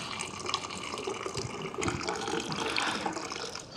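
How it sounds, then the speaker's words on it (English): Cold water poured from a vessel directly over roasted green tea (hojicha) leaves, a steady close trickle and splash that continues throughout, with a louder clink at the end. "I'm just going to take the cold water here"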